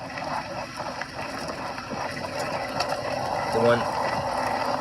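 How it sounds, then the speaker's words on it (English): Mechanical ratcheting and clicking from the drivetrain of a Nireeka Prime e-bike with a faulty motor, the pedals slipping while being pedaled, heard as irregular clunks and grinding over road and wind noise, with brief speech. "So the pedal is slipping while I'm pedaling."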